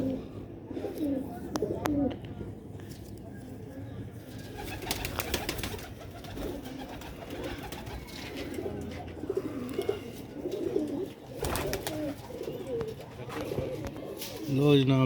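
Sialkoti pigeon pairs coo with soft, repeated rolling calls at close range, heard under someone talking.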